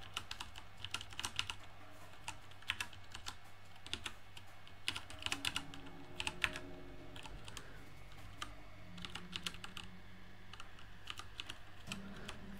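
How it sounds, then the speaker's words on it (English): Continuous keyboard typing while programming in C, with fast, irregular clusters of key clicks running steadily throughout, close and fairly quiet, with no talking. "now we're just doing the old little finger typing exercise"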